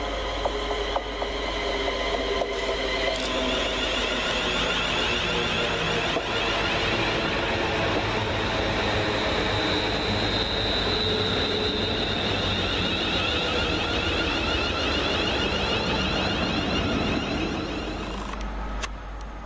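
A West Midlands Railway class 350 electric train runs at Tipton station, heard as a steady, loud mechanical hum with a rising whine and rumble that holds throughout, fading slightly at the end.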